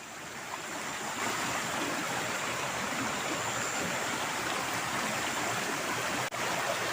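Steady rushing of a river stream flowing near a slippery forest path above a ravine, a continuous broadband wash of water holding an even level throughout with no voices.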